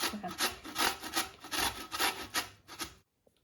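Beetroot is grated by hand into a bowl for sauerkraut, producing rhythmic scraping strokes that are close and clear, repeating for about three seconds before stopping abruptly.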